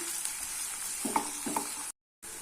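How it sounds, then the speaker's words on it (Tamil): Chopped onions and dried red chillies sautéing in a pan for a tomato and chana dal kootu, a steady close sizzle with a few soft stirring scrapes and a brief silent gap near the end. "இப்போ இந்த வெங்காயத்தை கொஞ்சம் நல்லா வதக்கிக்கலாம்"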